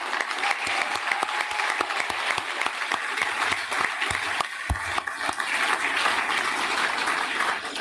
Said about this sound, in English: I think we should give Donna a round of applause